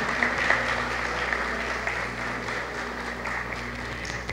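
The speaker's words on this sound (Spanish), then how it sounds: "Fuerte aplauso" Audience applause at the opening session of an academic congress, steady clapping from a crowd over a low sustained hum, slightly louder at first then settling to an even level.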